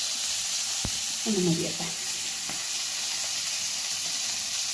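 Fish frying in a pan gives a steady hiss and sizzle throughout, with a brief spoken phrase over it and a couple of small clicks.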